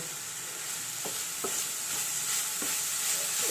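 Onion and mustard seeds sizzle steadily in hot oil for an ivy gourd stir-fry, with a spatula scraping and clacking against the pan several times over the constant frying hiss.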